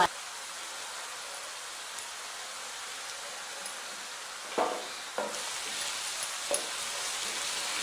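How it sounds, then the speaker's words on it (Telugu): Chicken legs fry in a pan with a steady, close, bright sizzle. A few soft knocks of stirring interrupt it partway through, and the crackle grows a little louder afterward. "ఇది వేగుతూ ఉంటుంది"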